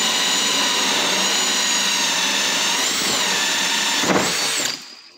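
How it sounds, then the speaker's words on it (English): A power drill whines steadily and loudly as it bores through a boat's gel coat, a high sustained motor pitch that wavers slightly, then spins down and cuts off near the end. "we're going to just drill right on through"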